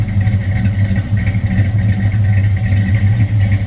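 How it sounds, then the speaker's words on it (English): A 1969 Plymouth Road Runner with its numbers-matching 383 V8 sits in neutral, idling with a steady, deep, loud rumble close by and a slight lope in the rhythm. "Nice little rumble."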